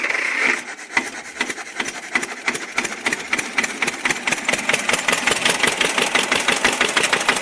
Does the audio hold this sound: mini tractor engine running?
yes